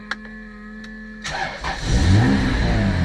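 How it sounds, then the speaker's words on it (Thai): A 1994 Volvo 940 van cranks briefly, then its engine catches and starts, rising into a loud, steady idle with a slight rev, heard up close with no talking. "ครับเดี๋ยวลองดูสตาร์ทนะครับสตาร์ทเครื่องดูนะครับ"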